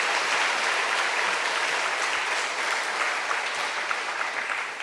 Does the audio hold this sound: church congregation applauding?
yes